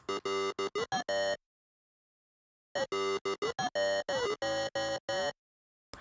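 A gritty synth layer plays alone in choppy bursts of stacked buzzing tones, with a long silent gap between two phrases.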